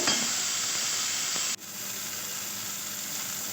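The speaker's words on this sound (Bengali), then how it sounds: "স্বাদ মতো নুন এবং হলুদ দিয়ে সুন্দর করে ভাজতে থাকবো" Raw banana peel paste fries in a pan with a bright, close sizzle that dips sharply midway as it is stirred, then settles into a quieter, steady hiss, with no voices.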